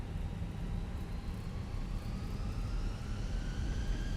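Fenix A320 jet engines in Microsoft Flight Simulator spooling up on the runway for takeoff: a steady broadband roar with rising whine tones that climb gradually, sustained and loud throughout with no talk.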